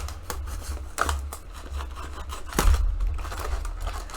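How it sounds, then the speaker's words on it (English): Scissors snip and tear into the plastic and cardboard packaging of a Hasbro Star Wars Black Series Archive Luke Skywalker figure, a few close cuts and rustles with a louder crunching tear near the end. "We're going to cut right into Luke."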